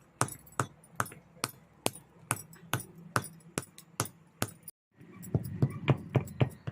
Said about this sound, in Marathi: आता ही हकुंडाच्या काड्या आहेत ना त्या अशा खलबत्त्यावर ठेचून घेऊया